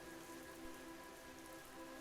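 Gentle rain comes down in a continuous, quiet wash of patter, unchanging and alone for the whole stretch.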